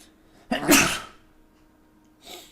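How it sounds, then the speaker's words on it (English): A single loud, close sneeze bursts out with a sharp breathy blast, followed by a quieter breath or sniff a moment later in an otherwise quiet room. "Gotta hate when sneezes come up just randomly."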